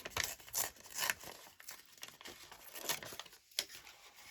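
A paper stamp piece being torn out by hand: several quick ripping and crinkling bursts, close and fairly quiet, with short pauses between tears.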